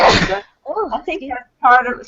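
A single sharp, loud sneeze bursts out at the start during a principals' meeting, followed right away by people talking.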